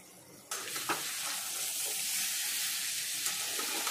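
Pointed gourd (patal) frying in hot oil in a pan, starting with a sudden loud sizzle that settles into a steady, close crackling hiss, with no talking.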